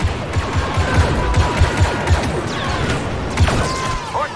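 Rapid blaster fire in Star Wars Battlefront 2 during a ground battle against rebels, loud repeated shots in a steady rhythm layered with crashes, zaps and whooshing effects close up.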